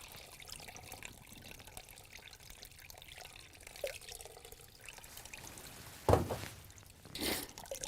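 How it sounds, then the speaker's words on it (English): Hot water rinsing brewing grains held in a strainer or colander at home, a soft trickling pour that splashes more strongly in two short bursts near the end, fairly faint overall. "rinse the extra flavors and sugars and color from those grains with a small amount of"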